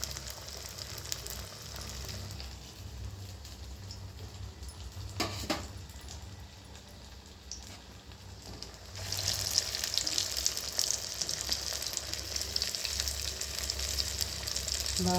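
Banana flower vadai deep-frying in hot oil give a steady, close bubbling hiss that grows louder and brighter partway through, running alone without any talk.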